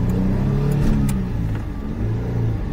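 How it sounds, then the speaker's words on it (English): A Mitsubishi Bravo microvan's small engine revs up and settles back, a close, steady mid-pitched drone that swells briefly and then holds, heard from inside the cabin with no talking. "You can rev it out way more than that"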